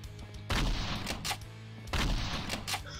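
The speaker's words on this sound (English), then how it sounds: "It shoots bazookas?" Gunfire and bazooka blasts in the horror shooter game Slendytubbies 3 play in multiplayer mode, with a steady noisy barrage and two heavier booming surges, loud and continuous.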